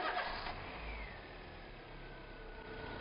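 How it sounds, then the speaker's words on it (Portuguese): A Peugeot 207 with a fuel-injection fault is cranked and starts, and its mid-pitched engine catches and settles into a steady, fairly loud running hum close by. "Dá a partida de novo."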